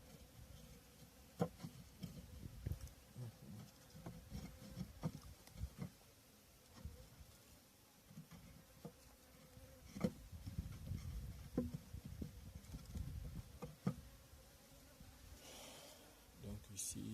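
Honeybee colonies at hives in Bafoussam produce a faint, continuous buzzing hum, with individual bees droning past and occasional soft taps and knocks close by.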